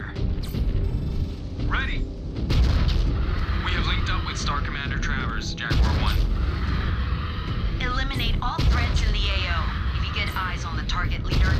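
Heavy weapons fire rumbles through a MechWarrior 5 battle as deep booms and blasts roll on in dense, continuous waves, with radio voices talking over the barrage.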